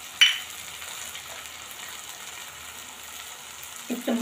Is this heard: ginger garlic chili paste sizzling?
yes